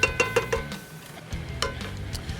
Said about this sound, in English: So we're gonna mix in our heavy cream. We just want that to simmer for a second.